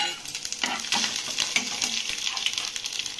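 Bay leaf and a piece of cinnamon stick crackle and sizzle in hot oil in a pan, a steady bright frying hiss with scattered pops and spatters, close and fairly loud, no voices.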